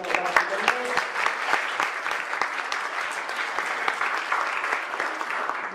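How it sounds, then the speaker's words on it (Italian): An audience at a Lecce conference on gender violence claps steadily for about six seconds. The applause is dense and continuous with sharp individual claps standing out, and a brief voice is heard at the start. "vorrei un applauso"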